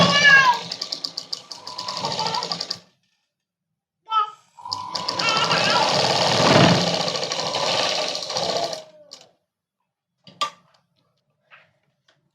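A sewing machine stitches Punjabi dress fabric in two close, loud runs of a few seconds each with a silent gap between, followed by a few brief faint knocks and clicks.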